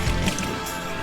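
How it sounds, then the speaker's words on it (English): Water pours into a can at an outdoor camp setting, giving a brief, steady splashing fill with a drip at the start and no talking. "Add to the can with plenty of water."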